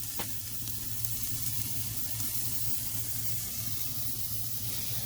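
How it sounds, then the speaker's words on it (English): Close, steady hiss of steak searing on a hot offset smoker grill, a constant crackling fry with a low hum underneath and no talking. "Love that sizzle."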